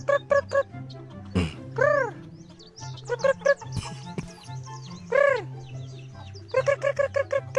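Chickens cluck and squawk in short bursts with a few rising calls, some close and some farther off, as stones are thrown at them in a prank, with scattered thumps between the calls.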